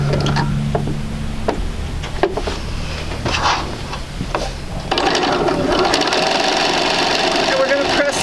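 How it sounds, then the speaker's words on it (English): A sewing machine stitches pieces of a square-in-a-square quilt block for a sampler quilt, running as a steady mechanical hum that gives way to a busier, brighter whir partway through, close and continuous. "And we're going to sew this."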